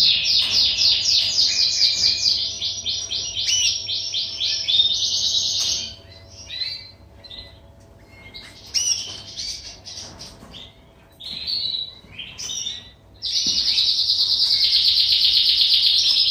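Canaries sing in long, bright, rapid trills and warbles, broken by short pauses, close and loud, with a faint steady hum beneath.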